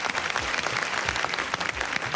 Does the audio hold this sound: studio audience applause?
yes